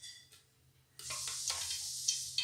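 Oil and Aavin ghee heating in a pot for a 1 kg chicken biryani, a faint crackle that rises after a quiet second into a steady, close bright sizzle with occasional pops, no one talking over it.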